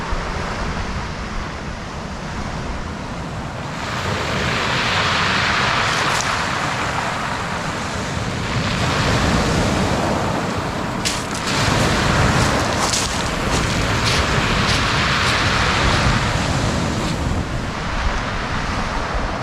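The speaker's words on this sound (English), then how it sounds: "it's quite rough out there. At the moment, we've got a strong easterly wind. And yeah, those waves are crashing in." Rough sea surf breaks on the shore at Sidmouth, East Devon, driven by a strong easterly wind, a steady roaring wash that swells louder in surges, with wind buffeting the microphone throughout and no voices.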